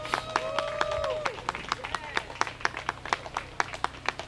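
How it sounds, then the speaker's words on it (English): A crowd at a summer jamboree claps for barbers being honored. A voice and whistling tones start the clip, then the clapping settles into sharp, rhythmic, fairly close claps. "Let's give them a round of applause,"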